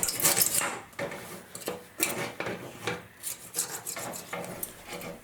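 A rasp files the overlapping flange of a composite wood mast joint, giving close, scratchy strokes. The strokes repeat in an uneven rhythm and carry clearly with no talking.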